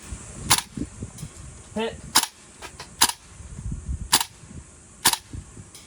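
Sharp, loud airsoft shots from a Tokyo Marui AKM gas blowback rifle fired outdoors in windy conditions, about five cracks spaced roughly a second apart, with a brief spoken word between them.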